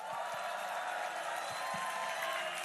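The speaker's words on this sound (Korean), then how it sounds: "충직한 일꾼들 박수 한번 부탁드립니다." Faint, distant applause from a campaign rally crowd in Iksan, clapping for the candidate's loyal workers as a steady wash of hand claps with a few low thumps underneath.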